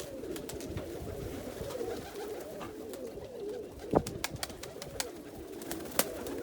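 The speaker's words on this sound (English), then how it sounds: "It's one of my bottlers, James Stoner Bloodline rollers." Roller pigeons coo softly inside a loft with a low, warbling murmur, broken by occasional sharp clicks and wing flutters, fairly quiet and close.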